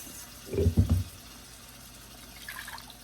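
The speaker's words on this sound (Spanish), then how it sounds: "le voy a poner como media taza más de agua nada más" About half a cup of water poured into a pot of Mexican rice cooked with tomato, a short splashing pour lasting under a second, then quiet with faint background sound.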